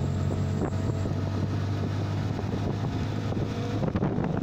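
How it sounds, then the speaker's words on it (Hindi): Strong wind in Karachi buffets an outdoor microphone with a continuous low roar and rumble, loud and steady for several seconds with no talk. "इतनी तेज़ हवाएँ चल रही थी और आप वीडियो में साउंड सुन ही सकते"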